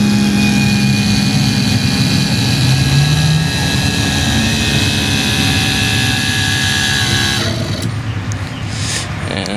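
A boat jackplate's electric motor raises the outboard mount with a steady, loud mechanical whine that runs continuously, then shifts and thins out near the end as the plate reaches the top of its travel.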